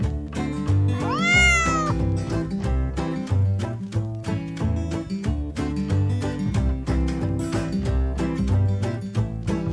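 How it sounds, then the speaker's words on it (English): A cat meows once, a clear rising-falling cry near the start, set against loud continuous music that plays throughout. "C is for cat."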